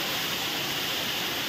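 A waterfall near Tandulwadi fort, a dense, steady roar of falling water, loud and unbroken, with no voices over it.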